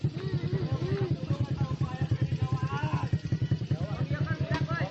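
A motorcycle engine putters in a steady rapid pulsing rhythm, close by, while people talk excitedly over it.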